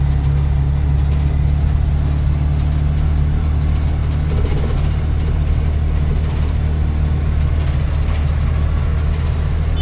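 A long queue of cars waiting for petrol and CNG idles steadily, a dense, constant low engine rumble with no clear changes throughout.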